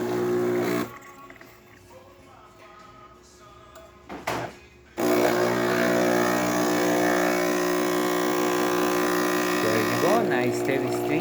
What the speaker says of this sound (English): We're doing the max setting on the max grind on the machine, and we're doing at least 2 ounces of it.